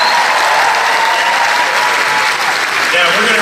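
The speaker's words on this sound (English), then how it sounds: "I want you guys to give a round of applause to Megacon for bringing guys like this in." Sustained applause from a convention audience at a Megacon 2018 Jeff Goldblum panel, a dense, loud wash of clapping that fills the whole stretch with a little crowd noise underneath.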